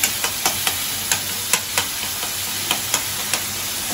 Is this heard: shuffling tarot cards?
no